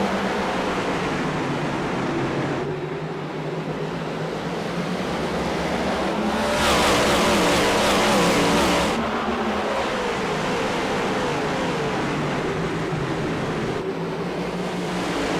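Race cars roar around North Wilkesboro in an iRacing sim, a dense, continuous engine drone that swells as the pack passes close, then eases back to a steady wash of noise.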